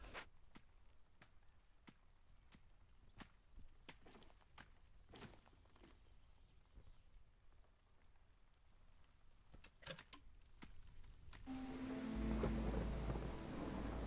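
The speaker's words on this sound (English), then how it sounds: "the storm is upon us" Rain patters steadily in the Against the Storm game, with scattered sharp drops and cracks, before a heavy roaring downpour swells loudly over the final seconds.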